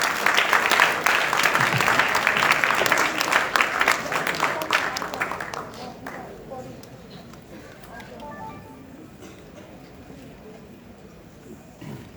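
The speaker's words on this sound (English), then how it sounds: "Let's clap for her." An audience applauds loudly for Honorable Shack, a member of the House of Representatives, at an International Women's Day event, the clapping strong for about five seconds before fading to scattered claps and quiet murmuring.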